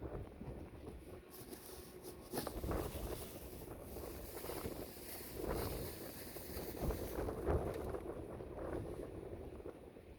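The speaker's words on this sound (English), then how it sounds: "Really, really windy." Strong wind buffeting a microphone outdoors, gusting in uneven rumbling waves that swell and ease over several seconds with no voices.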